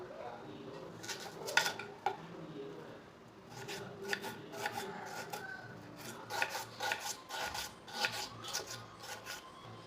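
A knife chops a washed, peeled onion on a board for a thandu keerai poriyal, a run of close, crisp repeated cuts in uneven bursts with light clattering, no voice over it.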